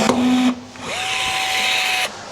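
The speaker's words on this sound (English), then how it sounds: "place it in the hole, place our gun on the spine of the rivet" An electric rivet gun sets an aluminium rivet during a campervan conversion, giving a close, loud mechanical whir with two motor runs and a sharp clack between them.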